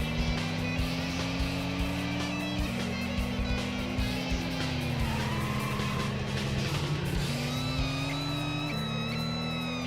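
Racing cars in the PS1 game Racing Lagoon, with a loud, steady engine drone whose pitch rises and falls as another car pulls alongside and overtakes, and a faint tyre squeal mixed in.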